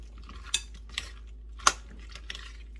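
A spoon scraping and clinking against a bowl while pea salad dressed with mayonnaise is stirred, three or four sharp knocks spaced across a soft mixing rustle, fairly close and with no talking.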